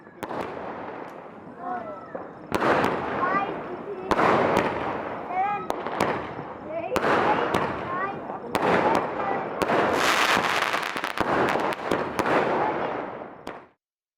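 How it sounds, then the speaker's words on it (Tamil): Rapid crackling bursts of Diwali firecrackers pop repeatedly in dense clusters in a big city street, loud and sharp, with distant voices underneath throughout. "சென்னை போன்ற பெருநகரங்களில் மக்கள் வழக்கமான உற்சாகத்துடன் பட்டாசுகள் வெடித்து மகிழ்ந்தனர்"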